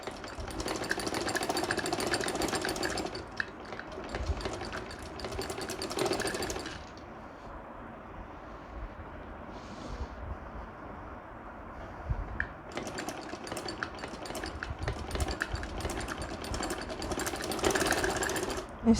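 Domestic sewing machine stitching the button neck of a kurti, running in long steady bursts with a quieter pause in the middle before whirring again, close and loud.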